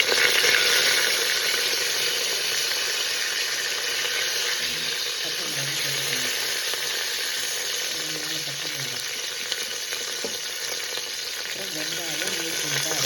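Fennel seeds and bay leaves frying in ghee in a pan, a loud, steady close-up sizzle running throughout with faint stirring underneath.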